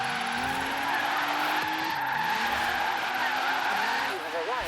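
A car drifts in Forza Horizon 3, its engine droning steadily while the tires skid and squeal continuously, loud and close, with a voice talking over it.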